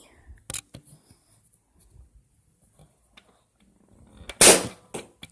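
A toy Nerf gun fires a single shot, a brief sharp snap near the end standing out from a quiet room with a few faint clicks and handling noises before it.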